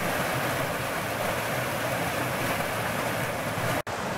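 Floodwater from a river swollen by days of heavy rain roars steadily between Les Six Chênons and Monthermé, a dense, continuous rushing wash heard close up, with one brief dropout near the end.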